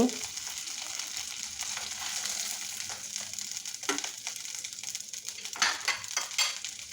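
Pieces of katla fish crackle and sizzle in hot oil in a pan, a steady bright frying hiss broken by occasional sharper pops and utensil clinks.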